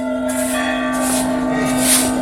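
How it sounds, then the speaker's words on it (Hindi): A very large, old brass bell in a temple courtyard rings loud and close, with a sustained, steady metallic hum and shimmering overtones swelling with each strike. "ये भी घंटी बहुत बड़ी घंटी है"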